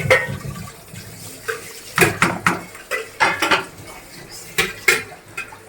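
Metal lid set onto a pot of fish curry on a kitchen stove, a cluster of clanks and clatters with lighter cutlery-like clinks and a faint watery background, no speech.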